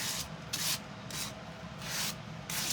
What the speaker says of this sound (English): take a sanding block, because this is the easiest way to trim off the corners